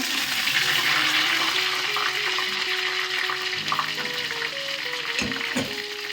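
Chilies and curry leaves frying in hot oil, a steady close crackling sizzle that runs throughout with faint stirring clinks, no talk.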